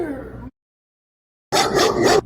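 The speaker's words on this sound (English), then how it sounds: "Sounds like a dog bark." A pit bull barks, one short bark, a second of silence, then a louder, longer bark close by, with no talk over it.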